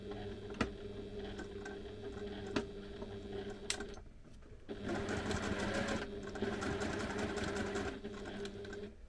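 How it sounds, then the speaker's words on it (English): A sewing machine stitches across the top of a fabric pocket, with a few short whirring runs and brief pauses, then a longer steady run of rapid mechanical clatter, close and moderately quiet. "So I'm just going to sew across the top because that's what I like."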